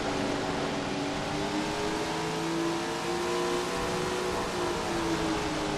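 A TQ midget race car in Tony Stewart's Sprint Car Racing game holds a high, steady engine whine at sustained RPM, loud and unbroken throughout with no talk.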